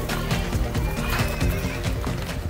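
Several horses on Sumba neigh and whinny loudly and continuously while being driven into a pen, with clip-clopping hooves under the calls throughout.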